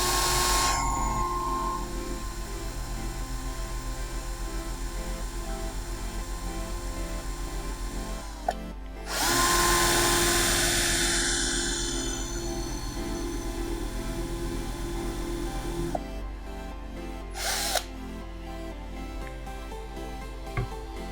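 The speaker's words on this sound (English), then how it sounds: "And though this drills, it doesn't let you screw and unscrew." A Bosch GSR 120-Li cordless drill runs with a steady whirring motor drone. It cuts out briefly near the middle and again toward the end, with the pitch shifting as it restarts and speeds up.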